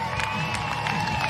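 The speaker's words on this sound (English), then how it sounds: "Give them a big round of applause" A crowd at a STIHL Timbersports women's competition applauds and cheers the athletes, a steady wash of clapping and whoops close by.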